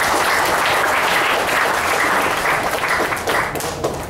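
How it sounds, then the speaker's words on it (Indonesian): An audience at an academic lecture applauds a professor, a dense, loud burst of clapping from many hands that holds steady before tapering slightly at the end. "kita sekali lagi kita berikan aplaus kepada Profesor"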